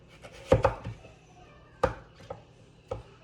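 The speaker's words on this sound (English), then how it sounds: "So I'm gonna go with maybe about half-inch planks of squash." A knife slicing butternut squash into half-inch planks on a cutting board, a few sharp thunks and chops spaced irregularly, close and clear in a quiet kitchen.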